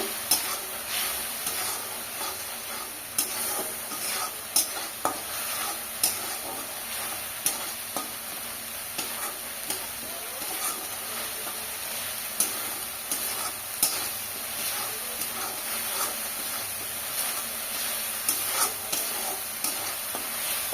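Spice paste for small rohu fish curry fries in oil in a pan, a continuous close sizzle broken by regular scraping and stirring clicks of a spatula throughout.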